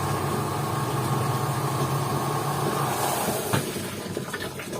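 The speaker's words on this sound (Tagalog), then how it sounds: "May ikot na ang dryer." A reconditioned washing machine's dryer drum spinning during a test run, a steady loud whirring hum that shifts and settles in tone partway through.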